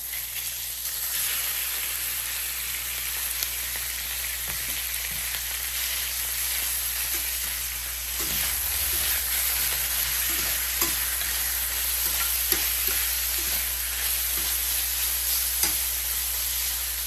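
Cubed pork shoulder frying in coconut oil over high heat, a constant loud sizzle and hiss broken by scattered clicks of stirring against the pan.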